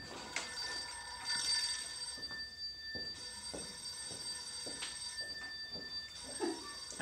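A rotary telephone's bell rings from inside a pocket in repeated jangling bursts, fairly faint and muffled, with no talk over it.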